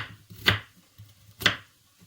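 Two sharp knife strikes on a cutting board, about a second apart, cutting potatoes for a pumpkin cream soup, close and fairly quiet with a soft low hum underneath.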